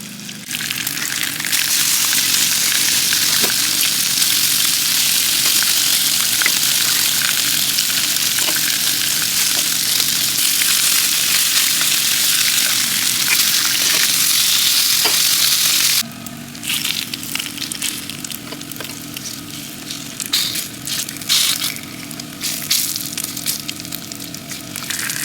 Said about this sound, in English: Cooking bacon while you're camping.